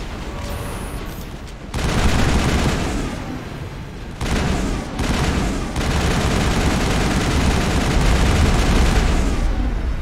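Rapid bursts of gunfire and heavy booms from a firefight in the PC game Mass Effect, loud and dense, with sustained volleys and a brief lull near the start and a short dip midway.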